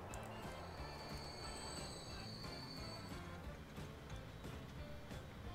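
A train runs in the video game Transport Fever, giving a steady rumbling rail noise with clacking wheels and a thin high squeal in the first half, no talking.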